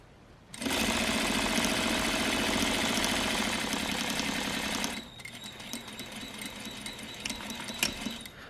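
A sewing machine runs steadily while stitching a French seam on fabric, a loud continuous mechanical whir for about four seconds that then stops, leaving quieter handling noises and small clicks.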